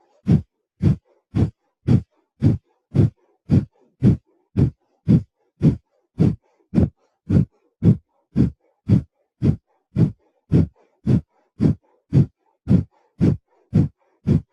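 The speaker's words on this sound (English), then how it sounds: "We'll do a clearing breath," Kapalabhati clearing breath in a yoga class: forceful nasal exhales pump in a steady, rapid rhythm, about two per second, close and alone for the whole stretch.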